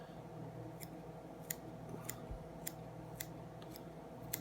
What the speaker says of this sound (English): these are some Dr. Slick hair scissors. They work really well.